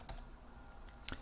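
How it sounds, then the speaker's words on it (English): Quiet typing on a computer keyboard: a few light, scattered key clicks over a brief moment, close and soft, with no voices. "So let's type welcome to card matching game."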